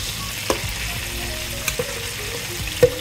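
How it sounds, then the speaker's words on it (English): Pancake batter sizzles and crackles in a hot frying pan, a steady close hiss with a few scattered pops and clicks. "It's sizzling."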